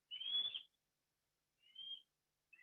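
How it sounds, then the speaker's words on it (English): A bird calls loudly near its nest in Miami, a sharp strident cry followed by a shorter second call and the start of a third, with silence between. "Why this bird is shouting so much?"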